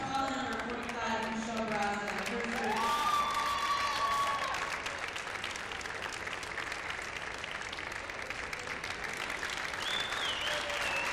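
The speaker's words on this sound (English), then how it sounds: "Standing ovation from this crowd" A basketball crowd gives a standing ovation at a 1998 women's college game, William Penn against BV, with sustained applause filling the gym. A commentator's voice runs over the opening seconds, then fades as the clapping continues.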